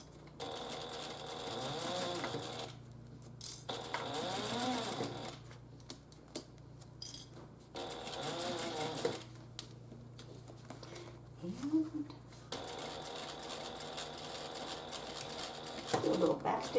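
A sewing machine stitches a handbag's top zipper and topstitching in steady whirring runs, with short pauses between them and a voice talking over parts.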